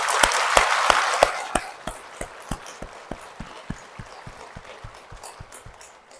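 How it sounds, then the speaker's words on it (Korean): Live audience clapping in a church hall, a dense burst of applause that thins out into scattered, sharper individual claps over several seconds, with no talk over it. "모든 어머니, 아버지들을 위해서 박수 한번 쳐드릴게요."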